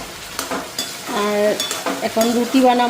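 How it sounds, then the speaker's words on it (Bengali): Potatoes and carrots frying in a pan for breakfast give a steady sizzle with occasional scraping stirs, while a voice speaks over the cooking. "তো এদিকে আলু আর গাজর ভাজা বসাইছি"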